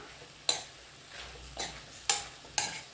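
Aviyal mixed vegetables being stirred together with grated coconut and ground paste in a pan: four sharp scraping, clattering stirs over a faint low simmer, close and otherwise quiet.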